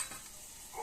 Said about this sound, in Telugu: ఎండుమిర్చి వేగినాయి.